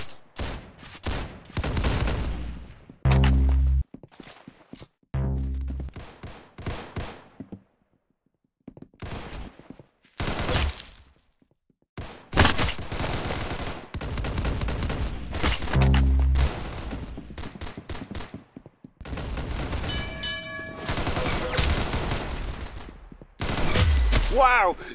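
Gunfire in the Roblox game Arsenal comes in loud, rapid bursts and single shots separated by brief silences, with heavier thumping blasts mixed in over the round.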